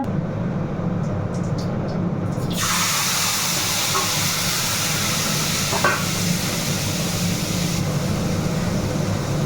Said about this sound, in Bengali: তেজপাতা এলাচ দারচিনি ফোড়নে দিয়ে দিয়েছি মাছের ঝোলটার জন্য